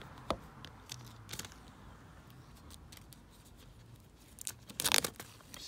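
Opening the Apple Watch Series 4 box: sparse tearing and crinkling of packaging, with a few sharp rips and a louder rustling burst near the end, close and fairly quiet.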